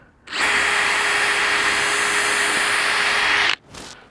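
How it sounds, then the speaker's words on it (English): A power drill whines steadily while pre-drilling a rim joist for a Trex deck build, one continuous run of about three seconds that stops abruptly, then a brief spin-down burst. It is close and loud, with no talk. "I'm going to pre-drill this top one."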